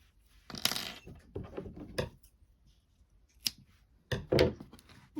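Scissors snip through a yellow yarn tail on a crocheted amigurumi foot, heard as a few close, sharp metallic clicks and rustles with quiet gaps between them.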